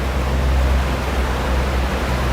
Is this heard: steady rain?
yes